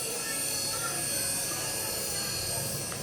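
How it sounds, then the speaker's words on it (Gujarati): A small toy helicopter flying indoors, giving a steady high buzzing whir that holds at one level from start to finish, with faint household noise around it. "આ દબાવું છું એટલે પાછું ભાઈ હેલિકોપ્ટર મસ્ત છે"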